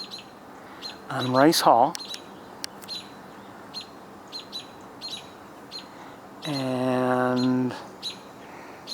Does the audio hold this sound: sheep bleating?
no